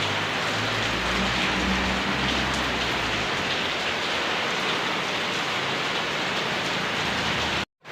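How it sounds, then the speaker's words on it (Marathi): Steady, dense rain that has been falling since the night, a continuous even hiss close by with a low rumble underneath, cutting off abruptly at the end. "बघा रात्रीपासून पाऊस चालूच आहे,"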